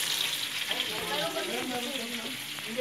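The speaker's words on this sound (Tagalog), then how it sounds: "Magluluto kami ng piniritong tilapia." Fresh tilapia frying in a pan gives a steady bright sizzle with crackles, while faint voices are talking in the background.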